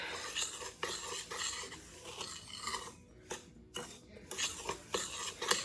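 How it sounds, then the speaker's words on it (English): Graham cracker crumbs mixed with melted butter into a wet-sand texture are stirred in a bowl with a utensil, making gritty scraping strokes in an uneven rhythm with brief pauses. It is close but fairly quiet, with no talking. "we're going to give a quick stir until everything is well combined"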